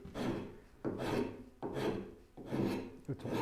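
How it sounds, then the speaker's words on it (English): A wood rasp scraping across wood held in a Moxon vise, four rhythmic push strokes of coarse rasping with short gaps between, close and fairly loud. "So this is my rasp"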